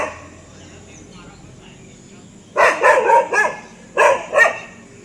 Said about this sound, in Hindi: सामने इस डायरेक्शन पे भौंक रहा है।